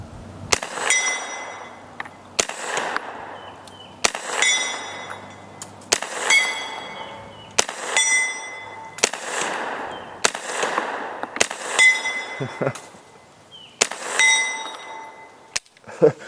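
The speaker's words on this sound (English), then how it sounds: "let's fire these hollow points over there, and let's see, since they're hollow points, they'll go right through the steel, right?" A 9mm carbine firing hollow-point rounds at steel targets outdoors: a string of sharp, loud shots spaced roughly every one to two seconds, each followed by a ringing metallic clang from the struck steel.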